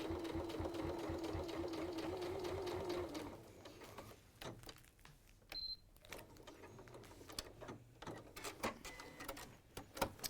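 A sewing machine runs a steady, fast stitching hum for a few seconds while double stitching is sewn across fabric, then stops and is followed by scattered clicks and handling noises.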